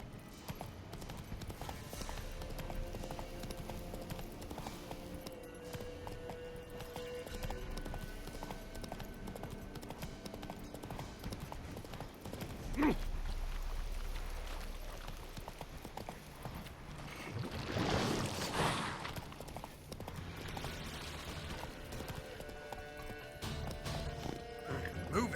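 Horse galloping in The Witcher 3 video game: steady clip-clop hoofbeats run through most of the stretch, with a brief whinny and someone talking intermittently over the rhythm.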